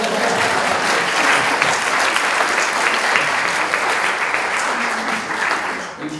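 An audience at a talk on ecological restoration claps steadily, a dense, fairly loud burst of many hands that holds evenly before fading near the end.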